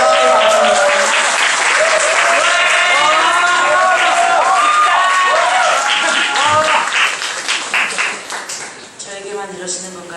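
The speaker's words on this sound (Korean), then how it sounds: "큰 박수와 환호로 환영해 주시기 바랍니다" A church youth group crowd bursts into loud applause mixed with cheering and whoops, the clapping dense and close before tapering off near the end, where voices come through.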